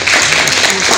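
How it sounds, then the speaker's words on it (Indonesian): An audience claps steadily through a lively gathering at a Halal Bi Halal family event during Syawal, with the applause dense and continuous. "Tepuk tangan untuk"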